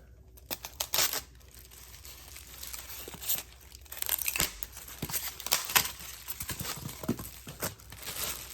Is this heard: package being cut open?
yes